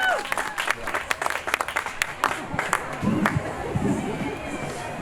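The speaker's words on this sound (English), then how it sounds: "Give him a big round of applause!" Audience applause with some cheering at an outdoor storytelling stage, steady dense clapping from a crowd with voices mixed in, welcoming a storyteller who performs a traditional Jewish folktale.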